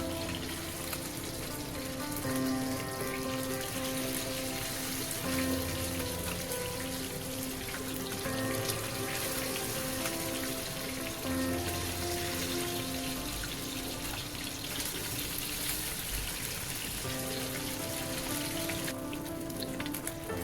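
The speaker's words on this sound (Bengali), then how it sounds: "এইবারে মাছগুলো এপিট উল্টে একটু হালকা করে ভেজে নেব" Pieces of katla fish fry lightly in oil, giving a steady, dense sizzle and crackle that holds evenly and close throughout, with no voices.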